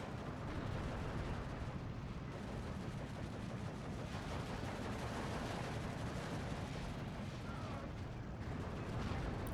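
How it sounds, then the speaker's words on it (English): A dense, continuous rumble of artillery fire in an Eastern Front World War II battle game, overlapping booms blending into a constant roar at steady loudness throughout. "the big intense barrage. And there it goes"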